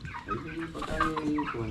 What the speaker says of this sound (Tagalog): pagkakadaming manok pala, ano?